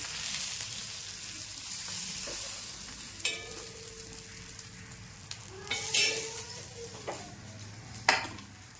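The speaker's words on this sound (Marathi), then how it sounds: "आधी आदिराजला मच्छी खूप आवडतात त्याच्यासाठी मी बनवलेलं शेवटचं राहिलेलं आहे झालेलं आहे हे काढून घेते मी" Fish fry crackles in oil in a pan with a close, steady sizzle. Scattered clinks and scrapes of a utensil against the pan break in, with a louder clank near the end.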